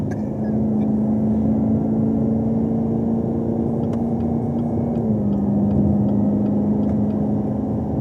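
A Chevrolet Camaro ZL1 engine drones steadily under heavy throttle from inside the cabin, a continuous loud hum whose pitch climbs and then steps slightly downward midway, with faint ticking over the top and no talk.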